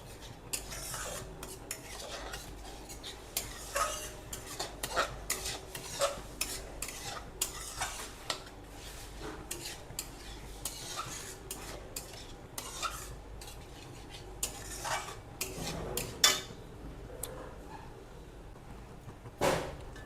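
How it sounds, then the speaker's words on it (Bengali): Tomato and date chutney is stirred in a pan over low heat. A spoon scrapes and taps the metal in an uneven rhythm over a faint, quiet sizzle. "এবার একটু ঢিমে আঁচে করছি চিনিটা গলে যাওয়া পর্যন্ত এইভাবে নাড়তে থাকবো"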